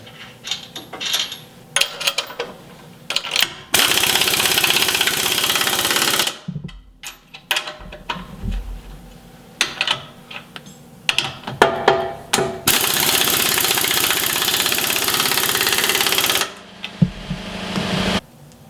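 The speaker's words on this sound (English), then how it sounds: "Now we can go ahead and tighten all of these bracket bolts along the frame." Power tool driving bracket bolts along a Jeep frame during a Rough Country front winch bumper install, two long loud sustained runs of rattling impact noise with clanks, taps and metal handling between them.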